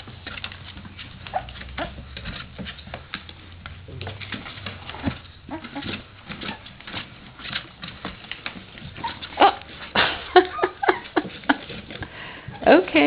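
Three-week-old puppies from a litter whimper and cry after climbing out of their nest, thin high whines rising over shuffling and sniffing nearby, growing louder toward the end with faint talk in the background.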